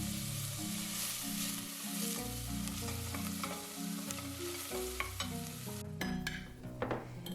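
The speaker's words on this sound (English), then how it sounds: "we want to get some taste by sauteing the onions in olive oil" Onions sauteing in olive oil for a Turkish yellow lentil soup give a steady sizzle and frying crackle, heard beneath prominent background music, with a few stirring clicks near the end.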